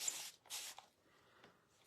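Spray bottle misting water onto a silk screen stencil, with two short bright hissing bursts near the start, then a faint third puff near the end, amid quiet pauses and small handling noises.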